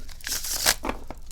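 A quick riffle of playing cards, a papery crackling burst followed by a few softer flutters, close and fairly clear.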